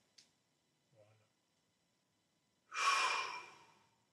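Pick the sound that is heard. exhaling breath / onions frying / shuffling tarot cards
exhaling breath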